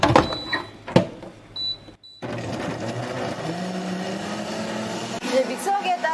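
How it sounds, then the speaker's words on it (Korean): A kitchen blender grinds ingredients seasoned with ginseng salt, starting with a few sharp clicks and knocks, then settling into a continuous whirring motor drone that runs steadily to the end. "그리고 이제 믹서기에 갈아주시면 돼요."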